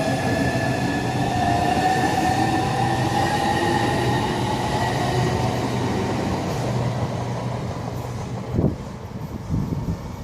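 A Southeastern Highspeed Class 395 passenger train roars past at Ebbsfleet International on HS1 steadily for several seconds, a loud sustained rumble with high whining tones, then a brief clunk as it moves on.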